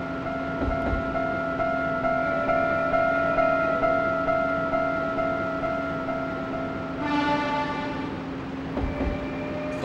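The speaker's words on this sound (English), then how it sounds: "I honked my horn" A train horn sounds in the Densha De Go railway driving game, a steady multi-tone blast holding for about seven seconds, then a second brighter horn blast near the end over constant cab rumble.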